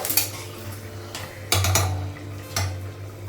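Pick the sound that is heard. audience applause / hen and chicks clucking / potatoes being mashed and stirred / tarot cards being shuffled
potatoes being mashed and stirred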